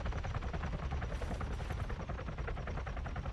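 Helicopter in the Arma 3 video game, its dense rotor chop and engine roar filling the whole stretch loud and steady, with no voices over it.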